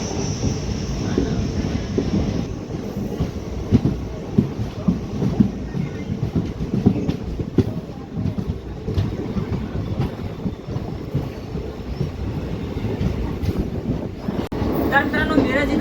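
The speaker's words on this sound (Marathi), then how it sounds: "आपली ट्रेन जी आहे ती सांगलीवरून निघालेली आहे." Koyna Express train pulling out of Sangli station, heard from on board as a steady, loud rumble with rhythmic rattling that runs for the whole stretch.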